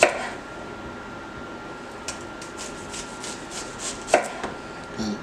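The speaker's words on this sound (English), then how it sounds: "I'm going to go ahead and cut these in slices because I'm not going to use this whole onion." A knife slices through an onion on a cutting board, giving a soft run of evenly spaced taps near the middle and a couple of sharper chops, over faint room hum.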